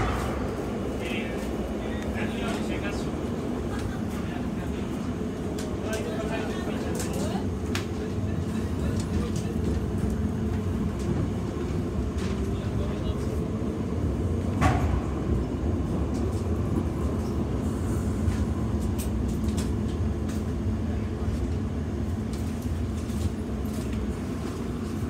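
A steady, low rumble and rattle of a London Underground Piccadilly line train in motion, arriving at Heathrow Terminal 5, continues throughout, with one brief louder clank midway.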